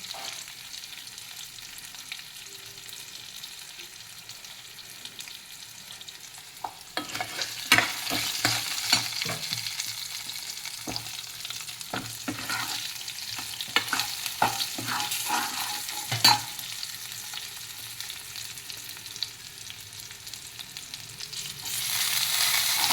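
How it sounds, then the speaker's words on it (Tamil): Eggplant sautéing in a pan for a hotel-style chutney, a steady close sizzle with no talk, broken after the first few seconds by a run of sharp scraping stirs against the pan. "ஆனால் இந்த கத்திரிக்காய் நல்லா வதங்கிடணும்."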